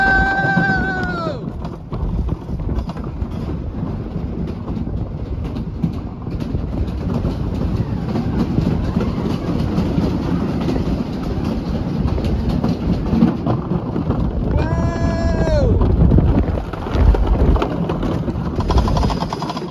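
A wooden roller coaster train at Kennywood in Pittsburgh, Pennsylvania rumbles and clatters steadily along the track, loud and continuous, with brief squealing tones near the start and later on.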